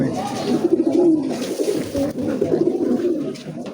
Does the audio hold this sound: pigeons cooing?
yes